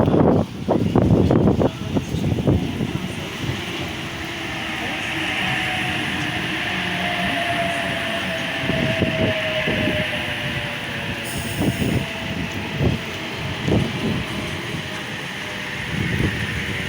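Sydney passenger train on a Central via Strathfield service at Broadmeadow station in wind and rain, rumbling and clattering close by with bursts of wheel and carriage noise, a rising whine, and steady gusty background.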